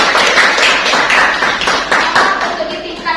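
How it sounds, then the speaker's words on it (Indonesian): A classroom of students claps their hands together in brisk, loud bursts, with some voices mixed in. "Beri tepuk tangan untuk kelas kalian."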